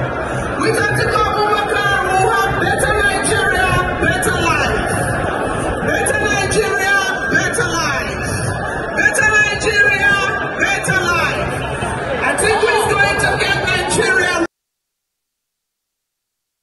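A large crowd at a political rally in Katsina fills the air with dense chatter and babble, many voices overlapping loudly and continuously before cutting off abruptly.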